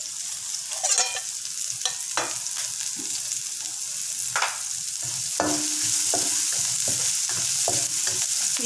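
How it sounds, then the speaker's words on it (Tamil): Green chillies and onions frying in a pan for fried rice, a bright continuous sizzle broken by repeated scraping stirs of a spatula, close and fairly loud, with no one talking. "ஊசி மிளகா போடுறேன். வெங்காயத்தையும் போட்டுறேன்."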